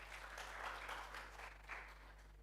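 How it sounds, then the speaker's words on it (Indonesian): A church congregation applauds during a Sunday worship service, producing steady, moderately faint clapping that lasts a couple of seconds over a low hum. "Tepuk tangan buat Tuhan Yesus."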